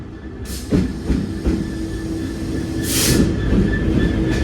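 A GBRF Class 66 diesel locomotive passes on the rail line, a steady rumble with brief hissing bursts and faint whining tones, close and sustained without talk.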